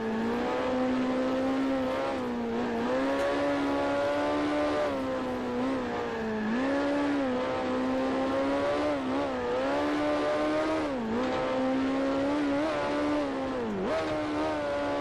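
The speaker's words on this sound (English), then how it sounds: "I can hear those cars again on the other side of the bushes" Continuous engine whine of race cars in the video game Grand Prix Legends, rising and falling steadily, several engines droning together at a moderate distance with no talking.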